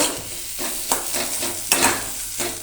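Mashed potato filling for a chop is stirred in a hot pan, giving a steady low sizzle with a few sharp spoon scrapes against the metal, and no voices over it.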